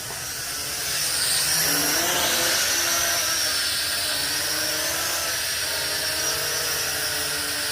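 An XK Alien X250 drone comes in to land, its high-pitched motor whine buzzing loud and close, shifting pitch as it slows and hovers.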